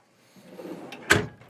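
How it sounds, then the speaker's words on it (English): A small cutlery drawer on heavy-duty slides aboard a 2023 Chris Craft Calypso 35 boat, a soft sliding rumble ending in one sharp close-up thump. "a little cutlery drawer"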